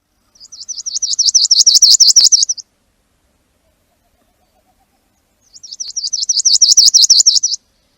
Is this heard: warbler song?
yes